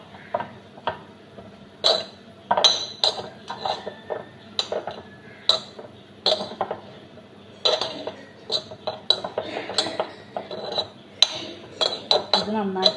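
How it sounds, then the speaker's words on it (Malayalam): Mango pickle is mixed with chilli and mustard in a bowl, producing a busy run of sharp clinks and scrapes from a spoon against the bowl, irregular and close. "ഇത് നന്നായിട്ട് മിക്സ് ചെയ്ത് കൊടുക്കുകയാണ്."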